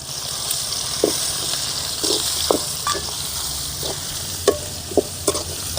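Mustard seeds and garlic frying in a pan for spicy garlic puffed rice: a soft continuous sizzle broken by sharp, repeated scrapes and taps of stirring, fairly close and without voices.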